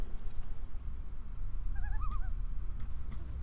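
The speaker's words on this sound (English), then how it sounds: "That's an owl, right?" Owl hooting at night in the survival game The Long Dark, a short series of wavering hoots in the middle distance over a steady low wind rumble, with no talking.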